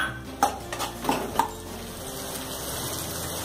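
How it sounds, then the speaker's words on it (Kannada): Onions being sautéed in a pan are stirred with a utensil, giving several distinct scraping clinks over a soft background sizzle, with the stirring fading after a couple of seconds. "ಈರುಳ್ಳಿ ಸ್ವಲ್ಪ ಮೆತ್ತಗಾಗೋವರೆಗೆ ನಾವು ಇದನ್ನ ಈ ರೀತಿ ಹುರಿಬೇಕು."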